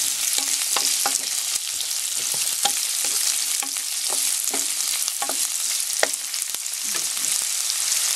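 Onion and pork sautéing in a hot pan for ginisang chayote, a steady close sizzle of frying with repeated scraping and clacking of a spatula stirring throughout, no voices.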